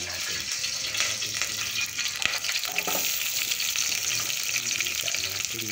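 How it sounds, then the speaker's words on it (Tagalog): Food sautés in a pan with a dense, continuous sizzle and frying hiss, and scraping stirs run through it. The sound stays close and fairly loud throughout, with no talking. "Gisa natin yan."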